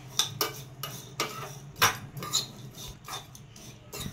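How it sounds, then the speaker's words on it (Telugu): Metal spoon scraping and clinking against a kadai while kasuri methi, sesame and spices are stirred over heat, a steady run of close, sharp scrapes and taps with no talk. "అవి మాడకుండా మనం కలుపుకుంటూ ఉండాలి"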